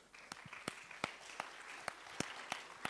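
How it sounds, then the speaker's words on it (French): A festival audience applauds arriving startup contest finalists with sparse, sharp individual claps over a soft wash of crowd clapping, fairly quiet and distant. "C'est bon, ils arrivent, enfin, on peut les applaudir."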